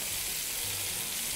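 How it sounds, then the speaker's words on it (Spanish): Beef shank sizzles in a pot for an Irish beef stew, a steady, close, continuous frying hiss with no talking. "Mientras se va friendo ya, ahora le vamos añadiendo la verdura."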